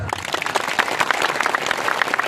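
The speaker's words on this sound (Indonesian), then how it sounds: "Mana tepuk tangannya?" Audience at an outdoor religious sermon (tabligh akbar) in Panai Tengah clapping in a dense, steady burst of many hands, moderately loud, with no voices over it.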